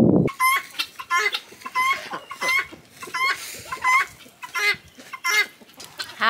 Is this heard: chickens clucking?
yes